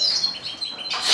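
Caged birds at hatching time give quick, high chirps and tweets, close and fairly loud, in a brief burst.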